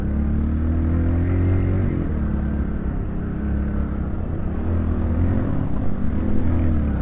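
A motorcycle engine drones steadily and close at hand as the bike rides a slippery village road from Argal to Tarakhola near Baglung, with a low rumbling roar and slight shifts in pitch throughout, and no voices.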